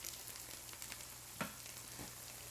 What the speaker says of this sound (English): This is the pan I do have for frying stuff.